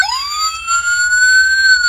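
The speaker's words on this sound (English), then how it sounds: "siren," An electronic siren tone from a button-pushing toy sweeps upward and holds a high steady wail, loud and close, with a small tinny quality like a toy speaker.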